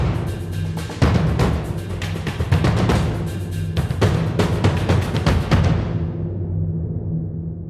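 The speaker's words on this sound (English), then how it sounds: "Out of the box, Drumatic Creator sounds something like this." Drumatic Creator drum sample library playing a busy, driving drum pattern with dense repeated hits, loud and close with no voices, cutting off abruptly into a short decaying tail.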